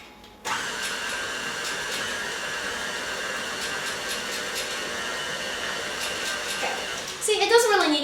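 An electric mixer beating cooking batter, starting abruptly and running as a steady, close whirring motor hum for several seconds with faint rattling, before a brief voice cuts in near the end.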